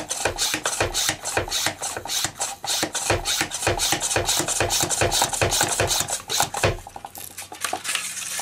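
A hand pump forces air into a pressure sprayer used to add inhibitor to a pressurised central heating system: rapid, steady, close-up strokes repeat about four times a second, loud and scratchy, with no talking.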